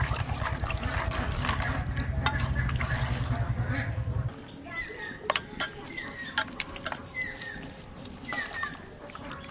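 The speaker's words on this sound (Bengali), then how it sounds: "এটা গ্রেভিটা দেখুন ডাল যেরকম ঘটে না সেরকম ঘটে নেবো একটু" A spoon stirs mutton gravy in a cooking pot, with a rhythmic scraping and bubbling for the first few seconds before it turns quieter with scattered clicks and light clatter.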